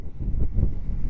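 Northerly autumn wind buffets the microphone on a road bike ride, a close, steady low rumble with gusty fluctuations and no voices.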